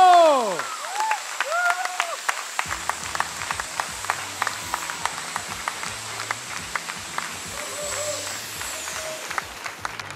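An audience applauding after a song performance at a finale show, with a dense burst of clapping opening the stretch and a musical tone fading, then sustained clapping beneath an announcer's talk.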